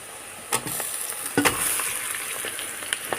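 Marinated chicken is added to browned onions in a hot pan and fries with a loud, steady sizzle, broken by a few close clatters and scrapes as it is stirred.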